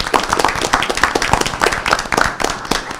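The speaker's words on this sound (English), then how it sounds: "If we give a round of applause for them" A city council meeting audience claps for community safety volunteers from Safe Passage, a brisk, dense round of hand clapping that fills the room for about three seconds without pause.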